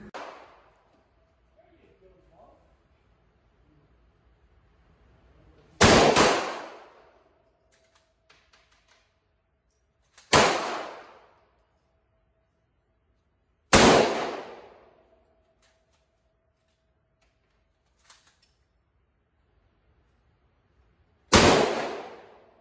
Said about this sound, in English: I've taken it to the range and shot it, and we'll show you some footage of that here.